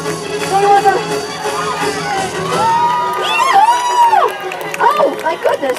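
A lively crowd at the 2015 Fanwood Halloween event cheers loudly, with children shouting and whooping in excited bursts, close by and continuous throughout.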